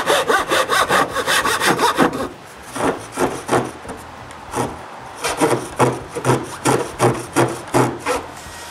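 Hand sawing of an MDF hinge master template along a traced line: rapid rasping strokes, fast and continuous at first, then slower evenly spaced strokes, close and alone.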